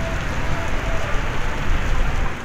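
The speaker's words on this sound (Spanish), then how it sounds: "Oigan, llueve durísimo, ¿eh?" Heavy rain pours down steadily in a Mexico City street, a dense, even hiss with low drumming that fills the whole stretch without pause.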